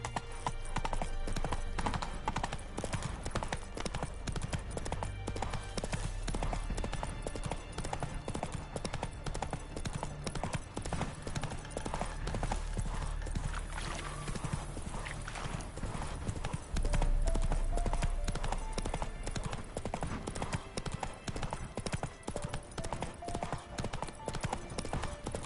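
Roach the horse from The Witcher 3 on PS5 clip-clops steadily along, hooves beating a continuous loud rhythm over a dense game soundscape with no pauses.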